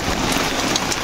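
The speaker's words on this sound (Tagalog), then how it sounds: "Ay nako, ulan na naman." Heavy rain pouring during a storm, a dense continuous hiss of drops across the whole span, close and steady with no voices.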